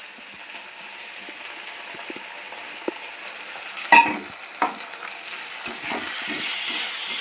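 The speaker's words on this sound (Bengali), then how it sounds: "এবার একটু নেড়ে ছেড়ে নেব তাহলে ডালটা একটু অল্প অল্প ভাজা হয়ে যাবে" Steady sizzle of mung dal frying in a pan, with a few scraping stirs and clinks partway through; no one speaks.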